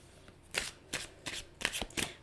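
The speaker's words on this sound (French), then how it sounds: "Je vais prendre mes tarots. J'ai envie de prendre mes cartes." A deck of tarot cards is shuffled close by in five quick riffling bursts, soft and papery, with short pauses between them and no talking.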